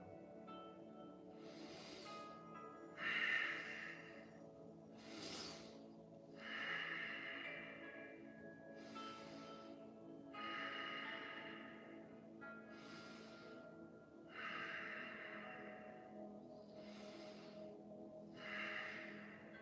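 Slow, deep yoga breaths repeat in a steady cycle of inhales and exhales, soft and close, with a quiet drone underneath.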